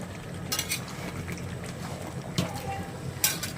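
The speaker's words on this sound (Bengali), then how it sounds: "এবার আমি নাড়তে থাকবো একটু, যেন জিরের গুঁড়োটা সব মাংসের মধ্যে যেন চলে যায়।" Chicken being stirred with cumin powder in a pan for chicken kosha, giving soft scraping and sizzling with a few sharper utensil clicks, steady and close, without talk.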